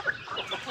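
Chickens on a small backyard mini farm cluck in a brief, busy burst, several birds close by, with no talk over them.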